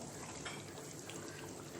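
Water pours steadily into a cooking pot of mutton curry with fried potatoes, a faint continuous splashing gush heard close up without talk.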